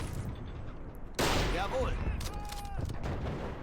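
Gunfire during a 1940 battle for Dinant in the Men of War: Assault Squad 2 strategy game: a sudden sharp volley breaks through low battle ambience, followed by a second cluster of shots, with faint background noise between.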